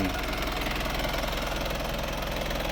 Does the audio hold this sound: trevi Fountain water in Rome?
no